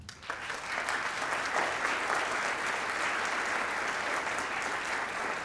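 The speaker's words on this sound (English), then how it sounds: "We would like to give them a round of applause." Concert audience applauding student band performers after a saxophone group and woodwind duet, a sustained, moderately distant sheet of clapping that rises quickly and stays steady.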